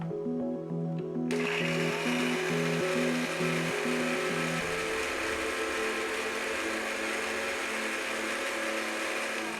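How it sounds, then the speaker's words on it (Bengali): A kitchen blender grinds a few pieces of chopped pineapple into a paste, a steady loud motor whir running throughout with no talking. "অল্প কিছু আনারস আমি বেটে নেব। আনারস আমি বেটে নিচ্ছি।"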